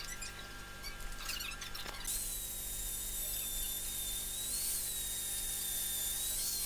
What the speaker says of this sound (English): time for some grinding.